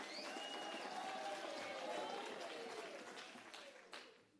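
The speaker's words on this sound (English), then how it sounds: "That is something to be applauded, as you just did" An audience at an ANC national conference applauds, a broad wash of clapping and cheering with a voice faintly heard, tapering off toward the end.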